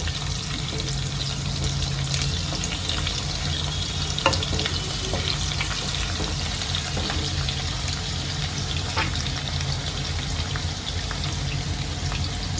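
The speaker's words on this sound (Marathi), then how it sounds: "आता यात मी कांदे घालून घेते जे आपण रफली चॉप केलेले आहेत दोन कांदे" Two roughly chopped onions fry in a pan over medium-low heat for masala rice, a steady close sizzle running the whole time with light stirring and no talk.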